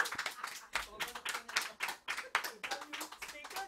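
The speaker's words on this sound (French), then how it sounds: "Ouais, on les applaudit bien fort." An audience at a French radio show recorded before a live crowd gives a burst of brisk, steady hand clapping that lasts several seconds, close and fairly loud, with voices mixed in.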